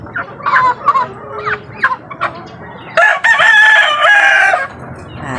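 Pet chickens drinking vitamin water nearby, with loud, close clucks at first and then a long rooster crow.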